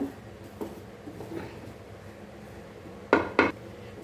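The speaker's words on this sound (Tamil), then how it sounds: "எண்ணெயும் உப்பும் சேர்த்து நல்லா கிளறி கொடுத்துக்கோங்க" Roasted flour being stirred with oil and salt in a pan, quiet stirring followed by two sharp metallic clanks of a spoon against the vessel, close and alone.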